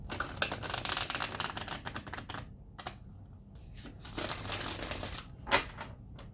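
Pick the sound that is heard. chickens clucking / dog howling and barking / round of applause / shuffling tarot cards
shuffling tarot cards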